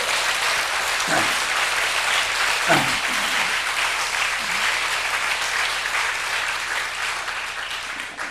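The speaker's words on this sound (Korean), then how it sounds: "박수로 우리 하나님께 다시 한번 영광 돌리고요" A church congregation at a Korean worship service breaks into sustained, dense applause giving glory to God, a loud even roar of many hands with a couple of brief voices underneath.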